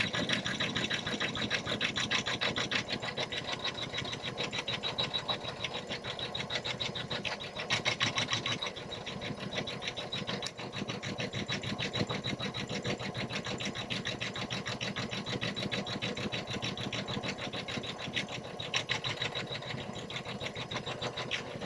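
A Janome 500 embroidery sewing machine runs steadily throughout, with a fast, even mechanical stitching rattle and hum at close range.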